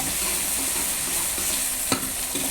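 Onions fry in oil in a pan, crackling in a steady close sizzle, with a few light scrapes of stirring and one sharp knock near the end.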